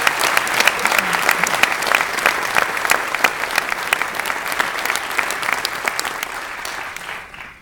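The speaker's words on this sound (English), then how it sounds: "Give President Dennis Murray another round of applause." A crowd gives President Dennis Murray another round of applause at a state budget event, loud, dense clapping with distinct close claps that holds steady and then fades out at the end.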